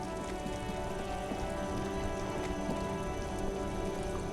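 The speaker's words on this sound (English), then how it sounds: "Now it's raining." Steady rain hisses and patters continuously in the video game Disco Elysium, moderately loud and unchanging throughout, with no voices.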